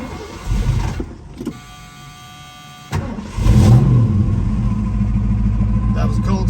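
A 1971 Ford Mustang Mach 1 with the 351 M-code engine and 4-speed, cold-started: cranking, then the V8 catches and settles into a loud, steady idle, with a door buzzer earlier and some talk.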